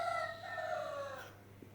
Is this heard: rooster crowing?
yes